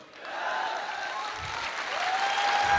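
An audience applauding at a live stage program, a dense, steady wash of clapping hands that swells slightly and carries on for a few seconds without a break.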